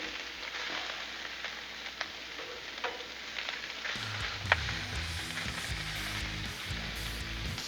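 Sausage and tortellini frying on a Blackstone griddle, a steady close sizzle that grows busier and louder halfway through, with occasional scraping stirs and one sharp clink.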